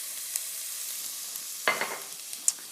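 Half a cup of onion drops into a hot pan, setting off a sudden brief sizzle that fades into quiet crackling. The kitchen is otherwise fairly quiet.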